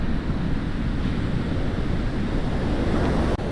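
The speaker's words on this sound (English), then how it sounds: "you see how the waves roll up against the rocks" Heavy surf rolls up against the rocks at Portuguese Beach on a day of high wave activity, a continuous loud wash mixed with strong wind noise on the microphone, no one speaking.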